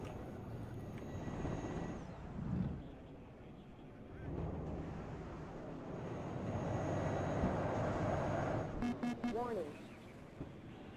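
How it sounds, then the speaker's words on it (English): Jets roar past in the video game WARNO as a broad rumble that rises and falls twice, building into a sustained loud pass near the end, while voices talk over it. "Lots of jets."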